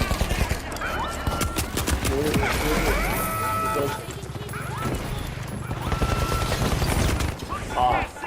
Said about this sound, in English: I barely can hear you with the gunfire